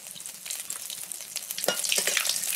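Whole spices and dry red chili fry in hot mustard oil, giving a bright, crackling sizzle with small pops that grows a little louder toward the end.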